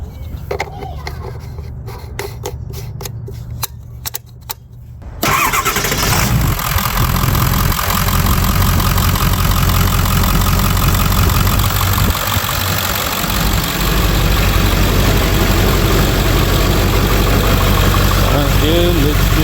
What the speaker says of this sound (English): So I'm gonna start the truck, let it run for a few minutes